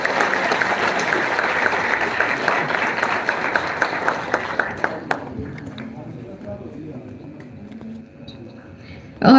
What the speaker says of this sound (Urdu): تالیاں ہونی چاہیے بہت ساری۔